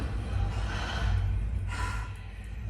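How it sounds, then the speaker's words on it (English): A heavy breathing sound effect from a Dolby Atmos film soundtrack: breathy gasps and exhalations rise and fall over a low droning hum, two long airy breaths filling the short stretch. "these otherworldly sounds, they're kind of like heavy breathing that's coming through the heights"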